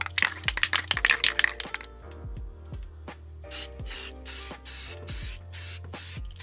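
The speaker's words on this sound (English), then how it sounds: "I don't have anything except for brown primer and blue spray paint" An aerosol can of primer or blue spray paint rattles with quick clicks, then releases a series of short, sharp hissing sprays in a steady rhythm, close and loud, inside a 1st-gen Toyota 4Runner.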